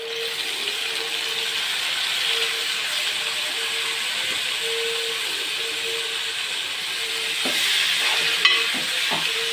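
Tomato pieces frying with onions and green chilies, a soft continuous sizzle over a low steady hum, with a few stirring knocks near the end.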